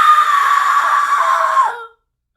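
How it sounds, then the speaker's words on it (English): A woman's sustained, high-pitched scream in a dramatized horror story, loud and unbroken for nearly two seconds before cutting off abruptly. "She screamed, her voice a distant echo in the darkness."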